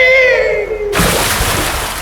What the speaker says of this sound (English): His scream ended with a sudden splash as he pitched overboard.